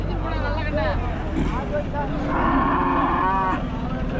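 Cows moo several times in long, drawn-out calls amid a low background hum and faint crowd murmur at a cattle market in Puthansanthai.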